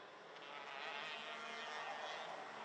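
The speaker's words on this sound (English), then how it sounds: "Yeah, there's definitely a noisy exhaust out there." Racing karts with a noisy exhaust circle a Genk karting circuit during a Rotax and KZ2 championship round, a distant, steady engine drone without pauses.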